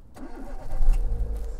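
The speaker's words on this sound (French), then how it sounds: "on met le moteur en marche" A car engine starting from the driver's seat: a brief starter whir followed by the engine catching and settling into a low, steady rumble close by.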